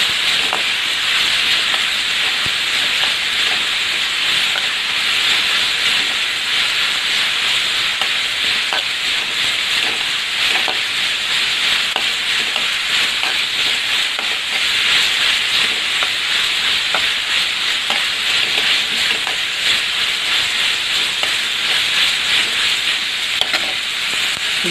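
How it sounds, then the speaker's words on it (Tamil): A paste of ground green chilli, cumin and garlic sautés in a hot pan, giving a loud, even, hissing sizzle that runs unbroken throughout, with faint occasional stirring ticks. "இந்த பேஸ்ட் போட்டு வதக்கிடுங்க."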